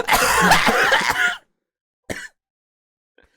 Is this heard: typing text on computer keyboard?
no